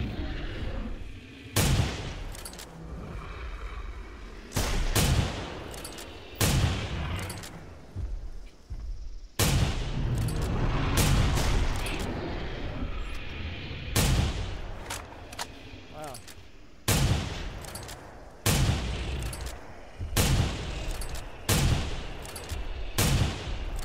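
Repeated loud gunshots fired at a T-Rex in theHunter: Primal, a dozen or so sharp booming reports spaced a second or two apart, each with a long echoing tail, while people talk between the shots.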